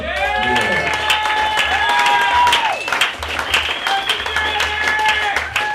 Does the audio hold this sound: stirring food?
no